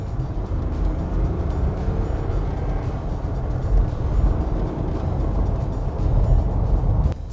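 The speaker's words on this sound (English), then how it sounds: "This new straight-six sounds a damn sight better than the old Mercedes V6 diesel" A Mercedes-Benz G 350d's straight-six diesel in sport mode runs as a steady, moderately loud engine drone throughout, with no talk over it.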